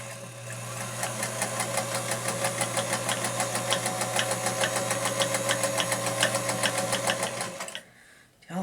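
A 1941 Blackside Singer Featherweight sewing machine runs its first stitches in a steady, fast, smooth mechanical chatter at close range for several seconds, then stops.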